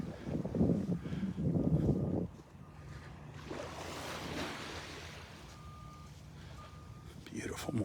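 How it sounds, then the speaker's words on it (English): Earth moving equipment works on Vanderbilt Beach. Faint, intermittent reversing beeps sound far off over steady surf and wind, and bursts of nearby rustling and handling noise come and go. "the noise of that earth moving equipment down on Vanderbilt Beach"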